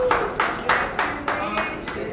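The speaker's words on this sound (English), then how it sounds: "Please join in for the cake cutting. सबजन साथ मिलेगा sir आइए Clap for us." Rhythmic group clapping at a magazine cover launch, with about seven sharp, evenly spaced claps, fairly close and loud, and voices talking faintly underneath.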